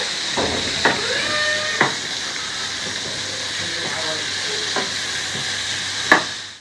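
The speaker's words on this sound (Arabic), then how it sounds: "وبعد كده ننزل بالبصل والفلفل اهو، نديهم تشويحه لحد ما تدبل" Onions and peppers sautéing in butter in a pan, with a steady close sizzling hiss and a few sharp clinks of a spoon against the pan.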